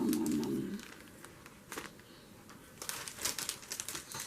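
Sheets of paper are handled and crinkled for a journal page, giving sporadic close crackling and rustling bursts, sparse at first and then a denser flurry toward the end.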